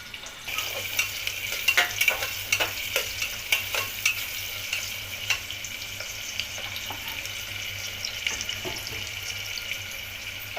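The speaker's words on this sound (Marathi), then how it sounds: "तेलामध्ये कांदा चांगला फ्राय झालाय" Onion fries in hot oil in a pan while being stirred, a continuous soft crackling sizzle with frequent light scraping clicks, close and alone with no voices.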